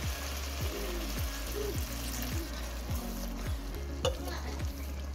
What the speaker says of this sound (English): now I'm going to add 1/2 cup of water